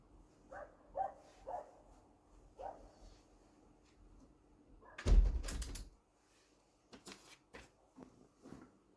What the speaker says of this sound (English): because the dogs are getting really loud